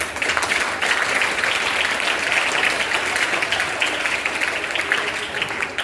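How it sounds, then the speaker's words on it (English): Audience applause at a school elocution competition, a steady, dense wash of many hands clapping together for several seconds, loud and sustained with no speech over it. "Let's clap for Asad Junaid."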